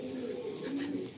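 A pigeon gives a brief, low, soft coo, close but quiet, over faint background noise.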